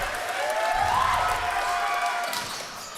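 A volleyball crowd at a men's bronze-medal championship match claps steadily in a large gym before a set-point serve, a continuous mid-distance wash of applause with a faint whistling tone drifting over it.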